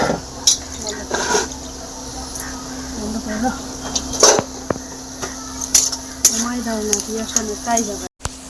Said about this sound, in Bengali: এই দেখো পেঁয়াজটা ভাজা হয়ে এসছে